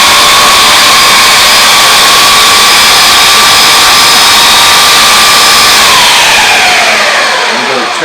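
A blender pulses chimichurri ingredients with a loud, steady high-speed motor roar and whine, running continuously for several seconds before beginning to wind down at the end.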